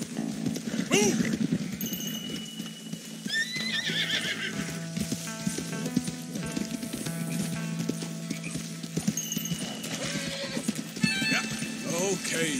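Several mustang horses gallop in Red Dead Redemption II, with steady hoof clip-clops, loud neighs and whinnies, and a voice urging them on over music.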